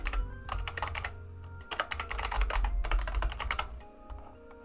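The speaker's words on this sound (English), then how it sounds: "Let's try typing it out this way." Bursts of rapid clicking from a computer keyboard, with quick runs of keystrokes broken by short pauses, close and crisp.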